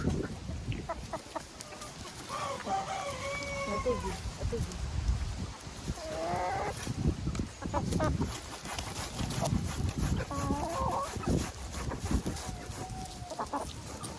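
Hens cluck close by as they are fed red beets along with grain, with repeated short clucks and calls scattered throughout over a bed of rustling and pecking.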